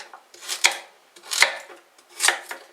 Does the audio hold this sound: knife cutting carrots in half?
yes